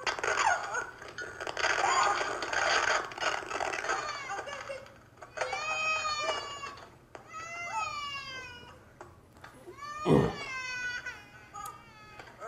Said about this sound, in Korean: 애기 울고요.